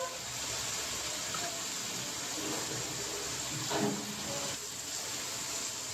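Onions fry gently in oil in a pan for a homemade mutton curry, giving a soft, steady hiss with faint crackles throughout and no voices.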